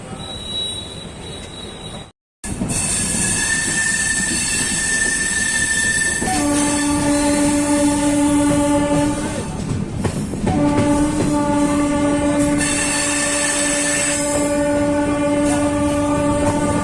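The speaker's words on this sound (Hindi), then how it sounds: "जैसे ही हमारी ट्रेन सिधौली स्टेशन से चली" Gorakhpur Express passenger train rolling on rails after leaving a station, a loud continuous rumble with steady clatter and long sustained horn blasts, preceded by a brief dropout; no one speaks.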